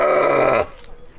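Goats and sheep at a farm bleat in a loud, sustained call that fills the first half, then give way to quieter mixed farmyard noise.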